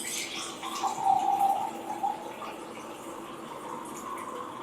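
Water being poured into a glass that holds oil, giving a trickling, splashing pour that is strongest near the start and then settles into a soft, steady running sound.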